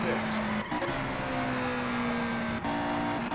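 A race car engine in the Indianapolis 500 Evolution game, run at Milwaukee in a 1963 race, holds a steady high-pitched drone with brief gear-shift dips and pitch changes, loud and close throughout.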